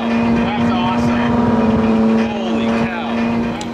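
A Ferrari Enzo's engine runs loud and steady close by, with a strong sustained tone and shifting harmonics, while people talk over it.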